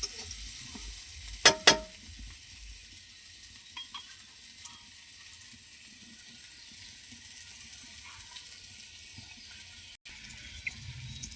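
Onion and garlic fry in a pan until nearly browned, giving a soft, steady hiss, with a couple of sharp clicks early on and a few faint knocks later.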